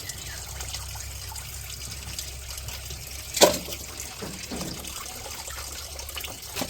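Water trickles and splashes steadily as pieces of Qurbani meat are rinsed at a village tap, with one brief louder splash midway.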